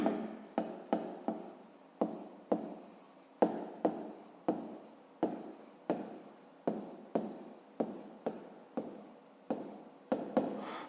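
A pen writes on paper while a grade-5 maths exercise is worked out, making a quick run of short scratchy strokes in an irregular rhythm. The strokes are close and fairly quiet, with no talk over them.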